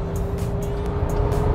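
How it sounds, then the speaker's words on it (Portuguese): A 2021 VW Amarok V6 Highline diesel pickup accelerating hard from about 2000 rpm, a loud steady engine drone heard from inside the cabin with no talking. "Então eu tô aqui a 2000 RPM, aí eu piso e a picape voa."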